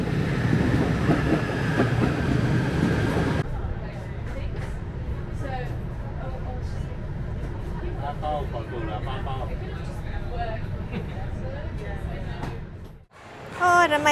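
Passenger train interior on the ride out to Batu Caves in Kuala Lumpur, with a steady rumble of the carriage throughout, a brief dropout near the end, and people talking over it.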